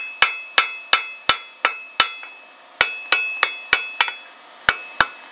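Hammer lightly tapping a white-hot steel rasp being forged into a tomahawk, about fifteen sharp metallic ringing strikes in a steady rhythm with a brief pause midway, close and clear with no talk.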